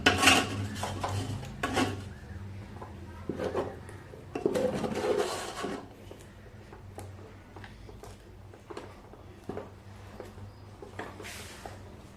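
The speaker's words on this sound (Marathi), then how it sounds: "आता एकदा उलटण्याने आपण तळापासून चांगलं हलवून घेऊया" Spatula scraping and turning thick ragi flour dough in a metal pot, with irregular clanks against the pot and rasping strokes, close up, louder early then tapering to quieter scrapes.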